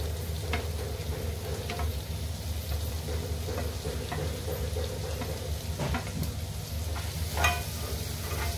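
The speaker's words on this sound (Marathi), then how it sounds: "ही पण ह्यामध्ये परतून घेते।" Surmai (kingfish) mince sautés in a pan over a low flame, giving a steady soft sizzle with occasional stirring scrapes, close and fairly quiet.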